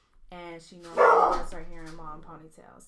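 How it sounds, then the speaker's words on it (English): A dog barks and yips in short bursts at close range, mixed in under someone talking steadily in the foreground. "Sorry about my dog, y'all. She's crazy."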